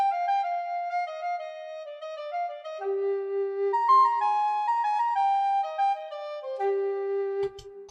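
A recorder melody from Ableton's recorder library, layered as soprano and tenor instances, playing sustained breathy notes that step down in a slow phrase, alone and clear, with a few faint clicks near the end.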